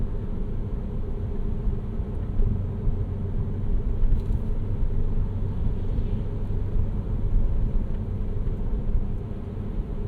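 A 2011 Porsche Cayman 987.2 with a six-speed manual cruises through a neighborhood in fourth gear, giving a steady low engine drone and road rumble heard from inside the cabin, with no voices.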